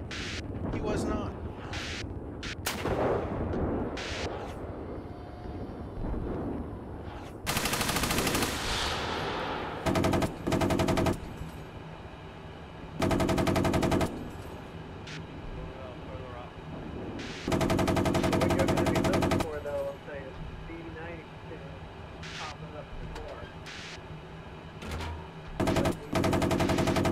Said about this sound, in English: Firing machine gun.